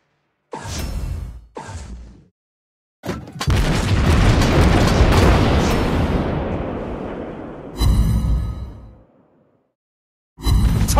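Explosions boom in a World of Warships Blitz naval battle involving the Tier 10 USA battleship Vermont. Two short loud blasts are followed by a long rolling roar that fades, then two more sharp booms.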